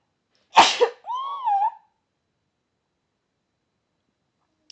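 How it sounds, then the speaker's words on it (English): A single close, sharp human sneeze followed by a short voiced exhale, then silence. "I'm going to sneeze."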